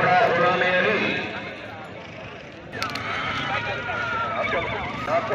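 At a neza bazi horse tent-pegging event, a horse whinnies loudly with a long wavering neigh, under an announcer's voice and crowd noise, followed by another horse call amid the commentary.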